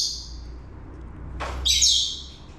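A hungry lost bird that has flown into a house gives a few bright chirps and squawks indoors, close and fairly clear, with a louder burst of calls near the end and no talking.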